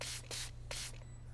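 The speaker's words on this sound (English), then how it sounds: "Spray it with disinfectant Marty's tank cleaner." Disinfectant sprayed in the Five Nights at Freddy's VR game: three quick hissing spray bursts in a row, fairly quiet, with brief pauses between them.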